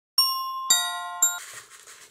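Small bright chimes ring out three times in succession from a paper Christmas bell shaker card being shaken, clear and close, followed by a soft rattling shimmer.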